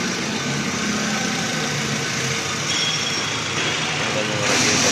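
A car engine runs steadily with its radiator fan working, making a constant broadband whir and hum at close range with no break.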